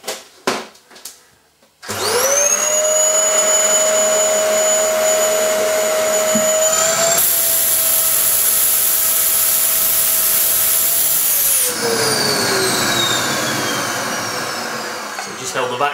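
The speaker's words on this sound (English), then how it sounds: "So the next thing I'm going to do is turn on the vacuum and turn off the heater." Vacuum pump on a homemade vacuum forming machine starts with a sharp rise into a loud, steady whine that holds for about ten seconds, shifts pitch, then slowly winds down while the plastic sheet forms over a mould.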